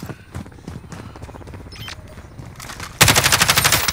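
Gunshots in an online shooter video game match: rapid rhythmic automatic fire, lighter and more distant at first, then a loud, close burst of sustained rapid shots in the final second.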